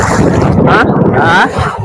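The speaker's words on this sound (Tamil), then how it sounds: "நல்ல காத்து, இயற்கை காத்து, சுவாத்திய காத்து, மருத்துவ குணம் கொண்ட காத்து." A strong sea breeze on a Sri Lankan beach buffets the microphone in loud, rough gusts that swell and ease over a few seconds.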